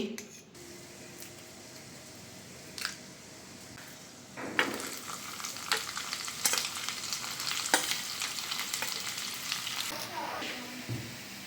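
Onions, green chillies and ginger fry in a hot yogurt-style tempering, a steady crackling sizzle broken by sharp spatters and the scrape of a spoon stirring through the pan, growing louder and busier after the first few seconds.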